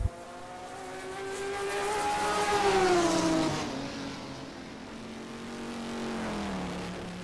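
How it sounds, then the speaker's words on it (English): Video game 1971 Can-Am race cars roar past one after another at Road Atlanta, engine pitch climbing then dropping as they pass, loud at first and fading into the distance. "hearing the cars fly by"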